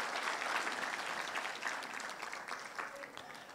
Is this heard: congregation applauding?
yes